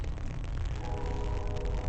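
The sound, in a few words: train passing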